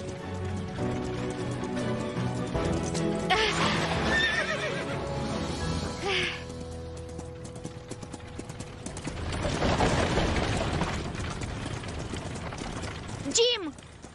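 Horse neighing and hooves clip-clopping in an animated farm series, with whinnies rising over a busy music and effects bed and the hoofbeats running steadily throughout.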